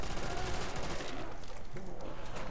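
Gunfire in the video game Call of Duty Nazi Zombies comes as a loud, dense, continuous barrage of rapid shots, blending with other game noise throughout.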